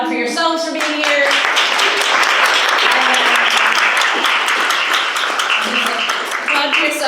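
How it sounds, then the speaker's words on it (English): A poetry reading audience breaks into sustained applause, a thick, even roar of many hands clapping, with a voice heard speaking as it starts and fades. "Applaud for yourselves for being here."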